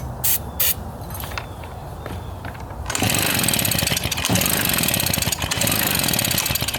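A RedMax EBZ 5150 commercial backpack leaf blower, under repair, starts from a few sputtering attempts into a loud, steady two-stroke roar that holds for several seconds, up close.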